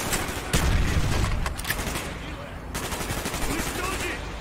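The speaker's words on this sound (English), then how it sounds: "Gunfire's drawing attention." Gunfire in the video game Call of Duty Black Ops, with a heavy blast followed by rapid bursts of automatic fire and scattered shots, loud and close, broken by a brief lull before the shooting resumes.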